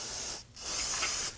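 Solvent is sprayed onto a brake backing plate during rear parking brake shoe replacement on a Nissan Murano, giving two close, loud hissing bursts separated by a short pause.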